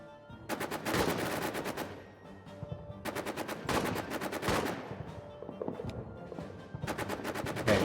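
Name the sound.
gunfire in All Quiet in the Trenches video game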